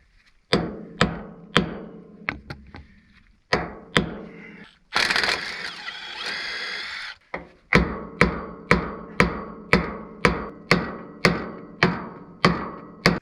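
Loud metal hammer blows on a stuck bolt of a farm center pivot irrigation system, a steady series of sharp ringing strikes. A short pause of scraping and rustling breaks them up partway, then the regular pounding resumes.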